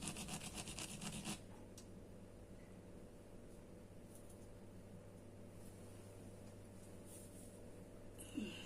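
Steady rubbing of an object, a scratchy rasping texture that runs continuously at low level, with a brief brisker burst in the opening second and a small knock near the end.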